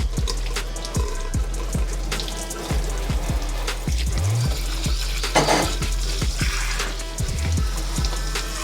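Parts of a Nama J3 juicer are rinsed under running water, a loud steady splash with repeated knocks and clatters as the pieces are handled close by.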